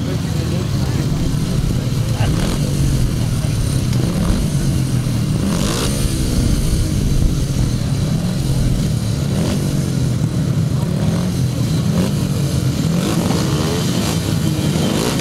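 Several 500cc solo grasstrack racing motorcycles roar together at the start of a race, a loud, dense and continuous engine drone that holds steady throughout.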